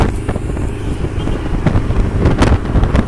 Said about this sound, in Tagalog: Strong headwind.